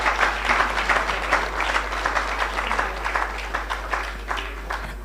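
Applause at a church-hosted law career event breaks out as a steady patter of many hands clapping in a hall, moderately loud and continuous.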